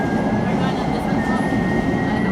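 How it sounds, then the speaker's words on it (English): A Keikyu Line train rumbles steadily nearby while arriving at a station platform, with a low mechanical drone and a faint high whine. "Okay, here comes our train."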